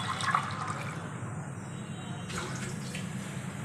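Water fills a large vessel around a clay pot set inside it, a continuous splashing rush with a brief surge near the start and a freshening burst later, steady and close.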